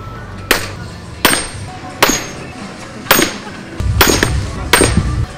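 Sharp, ringing hammer blows strike a metal blank centered under a forging hammer at a men's festival in Kyiv, six loud, evenly spaced impacts with a brief gap, nearby, with no talk over them.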